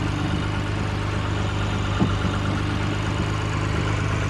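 A Lexus engine idles steadily with a low, rough, constant rumble and a slight puffing rattle from an exhaust leak, close by, with no talking.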